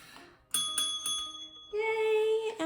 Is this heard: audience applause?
no